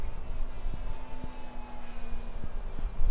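A Hawk King 928mm RC seaplane flies overhead, its electric motor giving a steady, moderately distant drone with faint tonal whine and slight rises and falls as it passes, with no talk.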